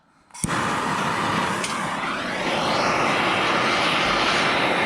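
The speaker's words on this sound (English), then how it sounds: "And I'm just going to do it with my MAP gas torch here." A MAP gas torch ignites with a sharp pop, then roars in a loud, steady hiss while heating an aluminum transmission case around a dowel pin hole.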